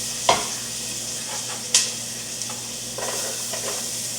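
Oxtail frying in browned butter, a bright continuous sizzle close up, punctuated by a few sharp clinks of a utensil against the pan.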